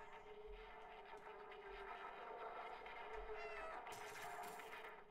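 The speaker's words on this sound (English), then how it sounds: "That's so weird that I meow and it listens to me." A cat meows in the video game Stray, a clear mewing call standing out near the end over a steady game soundscape with a low hum and ambient music.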